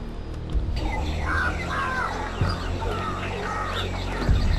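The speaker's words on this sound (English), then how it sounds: "for once I don't think the ambient sounds are as an insanity effect, it's just kinda birds." Ambient bird sounds in the Eternal Darkness video game, a crow-like cawing and scattered chirps that repeat over a steady background hum, clear and fairly close, with no speech.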